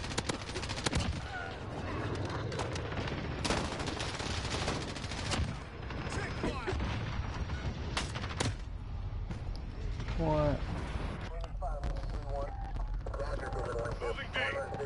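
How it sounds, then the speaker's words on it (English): Sustained rapid gunfire from an enemy sentry gun in a PS4 shooter game, a dense continuous barrage of shots running throughout with players talking over it. "Enemy sentry gun"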